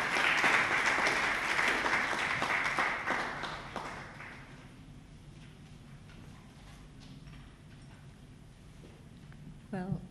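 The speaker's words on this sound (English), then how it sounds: "Please give her a big round of applause." A conference audience at a Jamaican cannabis industry event breaks into dense applause that fades after about four seconds, leaving quieter room tone with a speaker's voice coming in near the end.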